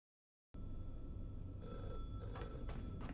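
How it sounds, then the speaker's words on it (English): After a moment of silence, a telephone rings in a game setting, with steady electronic tones over a low background hum. The sound is quiet and nobody speaks. "The phone's ringing again."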